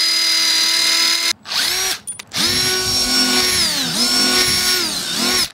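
A power drill drives a screw into a barn wood hinge, its motor whining in sustained bursts that rise and fall in pitch over several seconds, with brief pauses between runs, loud and close with no talking.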